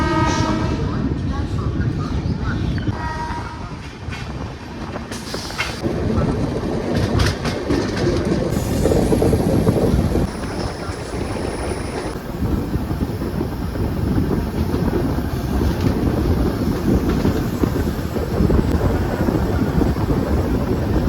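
Darjeeling Mail running through Barsoi Junction without stopping, a loud, continuous rumble with rhythmic clickety-clack from the wheels and wind noise on the microphone, which stays close throughout.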